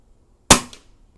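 One sharp, close crack from a Pinty bullpup air rifle firing a Benjamin pellet, with a short decay and then quiet.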